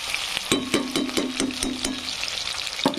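Potatoes and bell peppers frying in oil for a masala pulao, a steady close sizzle broken by a run of sharp stirring scrapes and clacks against the pan, with no talking.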